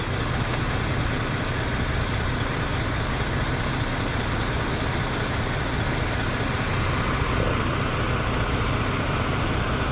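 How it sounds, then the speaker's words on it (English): A truck engine idles steadily at a truck stop at night, a constant low rumble that runs unbroken and fairly loud for the whole span. "Got one guy idling here. It should be fine. It's not an obnoxious idle."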